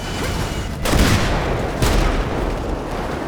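Loud explosions as an airplane blows up in Grand Theft Auto V: two heavy booms about a second apart over a dense rumbling roar, no talking.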